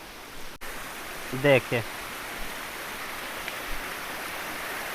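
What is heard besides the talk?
natural waterfall flowing from rocks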